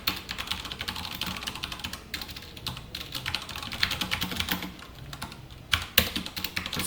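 Computer keyboard typing while C code is written, a continuous run of quick, irregular key clicks with occasional brief pauses, close and moderately loud, no talking.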